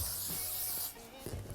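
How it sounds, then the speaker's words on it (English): Bio Silk finishing spray hisses from an aerosol can onto a wig in one steady burst close by, followed by faint rubbing sounds. "I'm gonna spray some Bio Silk finishing spray"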